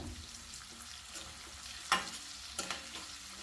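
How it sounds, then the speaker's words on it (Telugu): Chopped onions fry in a pan for mutton curry, with a steady low sizzle under a few sharper scraping clicks as they are stirred. No voices. "ఇలా బాగా ఫ్రై చేయాలి ఇలా మధ్య మధ్యలో కలుపుతూ ఫ్రై చేసుకోవాలి లేదంటే ఆనియన్స్ మాడిపోతాయి"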